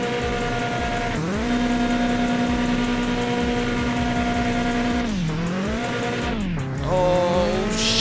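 A race car in a Mon Bazou video game drag race revs and accelerates, its engine tone climbing and holding, dipping at each gear change, then rising again, loud and close with no speech.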